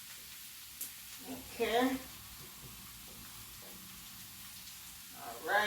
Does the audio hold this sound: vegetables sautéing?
yes